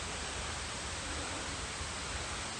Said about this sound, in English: And there's another set of falls here.